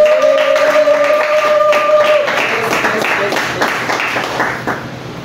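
A church congregation breaks into applause to acclaim the Lord, a dense, steady wash of clapping that holds for several seconds after a brief sustained tone at the start, then fades slightly toward the end.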